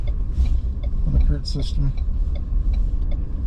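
Ford Ranger Tremor truck on a highway, a low steady engine and road rumble heard from inside the cab beneath someone talking.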